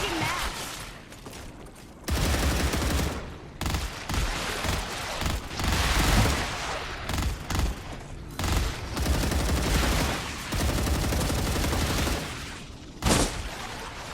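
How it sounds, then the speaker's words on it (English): Enemy gunfire in the video game StarRupture, with steady bursts of automatic fire and shots rattling almost continuously at close range, broken by brief pauses. "Shooting at me."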